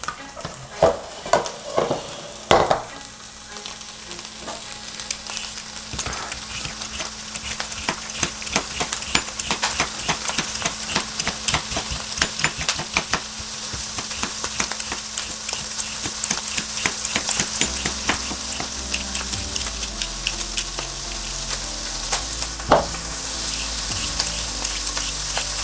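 Chickpeas sizzle and fry steadily in a pan while being stirred, with sharp utensil clatters and scrapes early on, then a continuous, close crackling hiss throughout.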